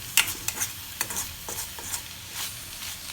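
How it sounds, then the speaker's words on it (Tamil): Sliced snake gourd sizzling in a pan while a spatula stirs and scrapes it, with a soft steady fry under repeated close clinks and scrapes. "இப்போ புடலங்காய் நல்லா வெந்துடுச்சு இப்போ தான் ஃப்ரையிங் ப்ராசஸ் ஸ்டார்ட் ஆகும்"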